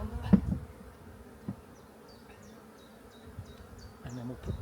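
Honey bees buzz faintly around an open hive during a spring inspection while the hive floor is cleared of dead bees, with a few soft knocks and handling thumps.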